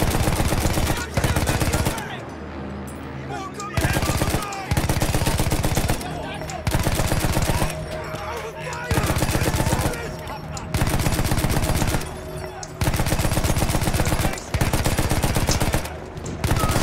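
Battlefield 1 video game gunfire, repeated loud bursts of rapid machine-gun and rifle shots in regular blocks separated by short pauses, with a voice talking in between.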